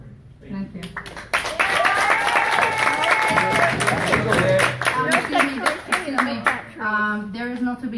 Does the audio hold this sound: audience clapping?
yes